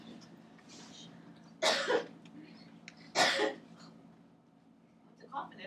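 Two sharp, loud coughs about a second and a half apart in a lecture-hall setting, followed later by a softer throat sound, over a low room hum.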